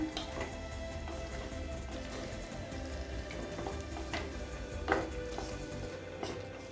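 Chilli chicken with added spring onion greens is stirred in a pan, a soft continuous sizzle under scraping spatula strokes and occasional louder clacks, close but fairly quiet, with no voices.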